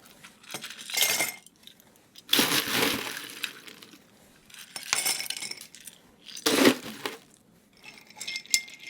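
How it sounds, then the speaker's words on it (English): Ice cubes clinking and rattling in a mixing glass as a gin cocktail is stirred with a bar spoon, heard close in several bursts of rapid glassy jingling separated by brief quieter gaps. "And then we ice these down and give them a stir."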